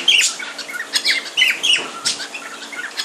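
A budgie sitting in the breeze from an electric fan gives a run of bright chirps and short squawks, loud and close, coming in uneven bursts over a faint airy hum.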